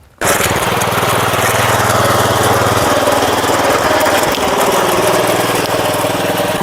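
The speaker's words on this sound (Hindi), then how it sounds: "इस लेवलर से इसमें पहले खाद डालेंगे, फिर उसी रोटावेटर से इस खाद को मिक्स करेंगे" Sraja R800 power weeder fitted with a leveler, spreading manure across a field: a steady, loud engine drone with rattling vibration that starts abruptly and runs continuously and close by, with no talk.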